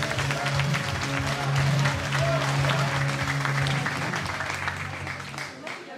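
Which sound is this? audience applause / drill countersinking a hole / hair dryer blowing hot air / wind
audience applause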